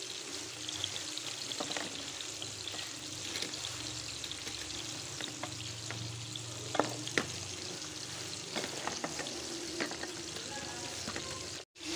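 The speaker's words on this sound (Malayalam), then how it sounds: "നമുക്ക് ഇതിലേക്ക് തക്കാളി ഇട്ട് കൊടുക്കാം. നന്നായി വഴറ്റി കൊടുക്കണം." Tomatoes sizzle and fry in a pan for chicken biryani, a steady crackling hiss broken by a few louder stirring knocks, close and continuous with no talking.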